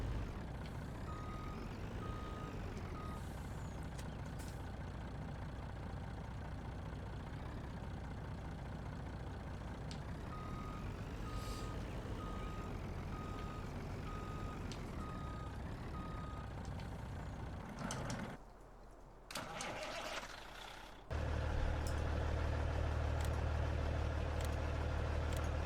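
Truck engine running steadily with intermittent reversing beeps in the Farming Simulator 19 video game, a continuous loud rumble that briefly dips before a heavier engine note takes over.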